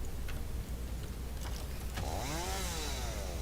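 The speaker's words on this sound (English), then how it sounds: "I'm gonna use my chainsaw on you." Chainsaw in Satisfactory buzzing steadily over factory machinery hum, then revving up into a rising, whining cut near the end, loud and continuous with no talking.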